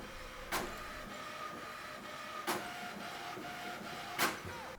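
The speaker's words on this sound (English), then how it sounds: "This is also the first time you'll hear the printer in action." An HP Envy 5030 inkjet printer printing, its steady mechanical whir carrying three sharp clunks of the paper feed spaced about two seconds apart, close and moderately loud with no voices.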